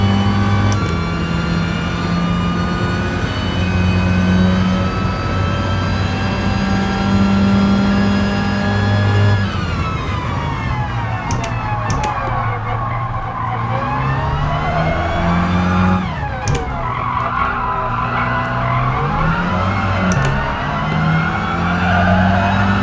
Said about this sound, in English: Quite a lot of wheel spin.